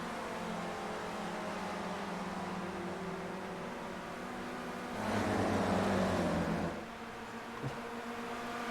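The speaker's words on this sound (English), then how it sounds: "that is Fabio completing another lap, being passed by Jacobsen" Racing cars in the iSpec Racer Ford racing video game run laps on the Glen-Classic track. A steady engine drone carries through, and a louder car sweeps past midway in a short rising and falling whine before the drone settles again.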